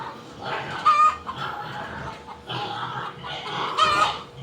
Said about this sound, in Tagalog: ito yung mga alaga namin mga manok oh